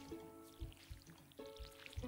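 Soft splashing pours from a watering can on crops in Stardew Valley, a few short watery bursts repeating under a steady game music background.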